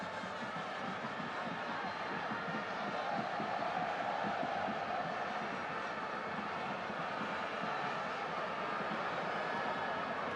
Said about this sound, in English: every touch of the ball by the Nigerians is being cheered by this sellout crowd in Lagos